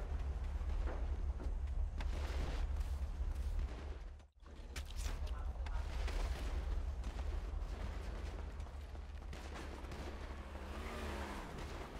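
Rapid bursts of gunfire echo through a Grand Theft Auto roleplay street fight, loud and continuous with booming low rumble, a brief drop to silence midway, then the shooting resumes.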